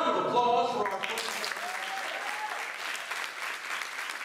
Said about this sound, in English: can we please have another round of applause for our first